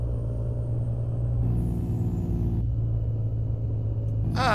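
A heavy truck engine in American Truck Simulator drones steadily with deep rumbling, shifting tone as it revs, loud and continuous.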